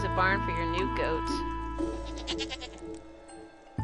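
A goat bleating in the Stardew Valley video game: a quick pair of wavering, nasal cries at the start over a bed of soft game music and chime tones, then the music continuing alone.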